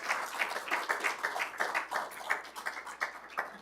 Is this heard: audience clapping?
yes